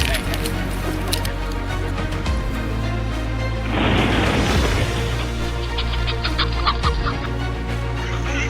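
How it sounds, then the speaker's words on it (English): Farm chickens cluck close by in a coop, repeated busy clucking over a steady low hum, with a brief burst of rustling noise in the middle. "the familiar sound of the chickens seemed quieter than usual"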